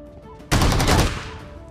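A single loud shotgun blast in the BGMI battle royale game, sudden and close, with a booming tail that fades over about a second.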